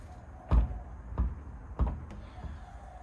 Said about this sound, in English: So you can hear it when the door shuts. It actually contacts the striker first before it closes.